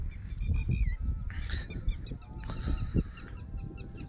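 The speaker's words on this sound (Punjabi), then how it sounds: "ਤੇ ਉਹ ਉਧਰ ਟਡੀਰੀ ਬੋਲੀ ਜਾਂਦੀ ਹੈ ਭਾਈ ਕੁਝ ਚਿੜੀਆਂ ਵੀ ਮਨ ਚੀਂਚੀ ਕਰਦੀਆਂ ਨੇ" At dawn on a farm, a lapwing calls and sparrows chirp in short, repeated, mid-distance bursts over a low background rumble. No one speaks.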